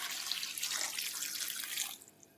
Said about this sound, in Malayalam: മുങ്ങാൻ പാകത്തിന് വെള്ളം ഒഴിക്കാം.